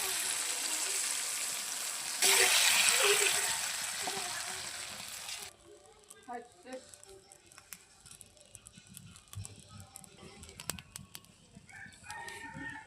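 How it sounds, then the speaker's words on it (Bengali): Water pours steadily into a pot of rohu fish curry cooking over a clay stove, a broad rushing splash lasting several seconds, then a quieter outdoor scene with a rooster and clucking chickens nearby. "এখন ঝোলের জন্য জল দিয়ে দিচ্ছি।"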